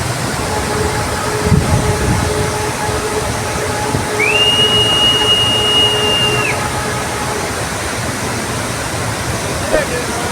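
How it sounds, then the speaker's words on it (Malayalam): A train with three engines at the rear arrives near Dudhsagar waterfall. A broad, steady rumble carries throughout, and a sustained horn-like tone sounds midway for about two seconds. "അങ്ങനെ നമ്മൾ കാത്തിരുന്ന് ട്രെയിൻ വന്നിരിക്കുകയാണ്."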